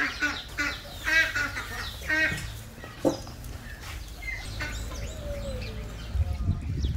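Chickens clucking among other small animals at a small countryside zoo, with several bursts of bird calls over a steady background hum and a faint voice in the mix.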